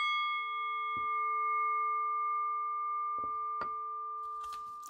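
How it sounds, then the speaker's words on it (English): A single bell rings out clearly, its pure tone sustaining and slowly fading, with a few soft thumps and rustles nearby. "And by the sound of the bell"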